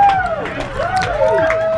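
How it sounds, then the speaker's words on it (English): A roaring crowd at an under-19 rugby final erupts after a long 75 to 80 metre try, a loud sustained broadband cheer with a commentator talking excitedly over it throughout. "Crowd's gone wild."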